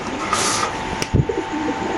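Caged pigeons, including a Marshal pigeon numbered thirty-nine, give a short low coo at a market stall, fairly near and brief amid a clatter and steady background noise.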